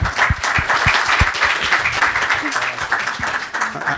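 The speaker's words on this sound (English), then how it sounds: "Now, a round of applause for Arthur for." A crowd applauding, many hands clapping together in a steady, fairly close burst that continues without break.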